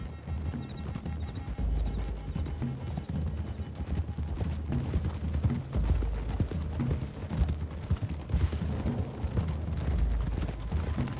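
Several horses clip-clop along a road in Red Dead Redemption 2, with loud, close, continuous overlapping hoofbeats and a few neighs, mostly on their own with little talk.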